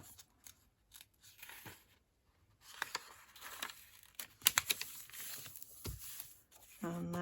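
Scissors snip and trim paper for a junk journal, a run of crisp close cuts with light paper rustle between, quiet pauses and soft talking throughout.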